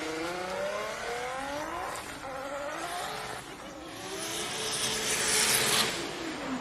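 A Nissan S15 drift car at a Drift Kings Asia Cup round in Malaysia, its engine revving up and down in repeated rising and falling sweeps, growing louder and harsher toward the end with no voices.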